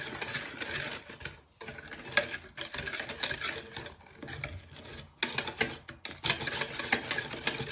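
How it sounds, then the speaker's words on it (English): Eggs, sugar and milk whisked together for egg custard, a quick rhythmic scraping and clinking of a whisk against the bowl in bursts, with brief pauses between strokes. "Give this a little bit of a whisk"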